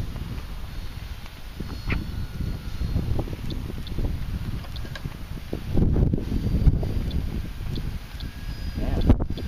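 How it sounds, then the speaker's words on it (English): Wind blowing outdoors at a model airplane flying field, a continuous low rumbling buffet across the microphone with gusts swelling and easing, plus a few faint ticks and knocks. "Windy up there."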